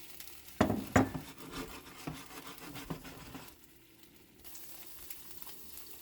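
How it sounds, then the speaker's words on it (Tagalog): Leftover egg whites frying in hot oil in a pan give a steady close sizzle with a few sharp crackling bursts early on, then settle to a quieter, softer hiss. "Para wag masayang yung natirang puti ng itlog ay atin na ring iprito."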